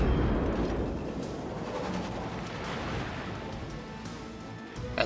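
Battleship guns fire in World of Warships Legends, a heavy booming salvo at the start that rumbles away into a steady roar, with another thump near the end and no talk.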